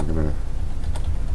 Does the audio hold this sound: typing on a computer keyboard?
yes